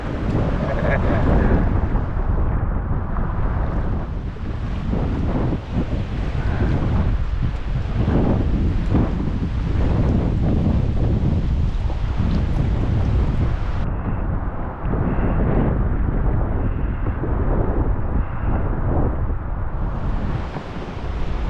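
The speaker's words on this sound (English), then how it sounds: "I've come to the point that I can't fight the waves anymore" Strong, gusty wind roars over a lake in Algonquin, with waves churning steadily underneath. The rush is loud and continuous, buffeting the microphone throughout, with no talking.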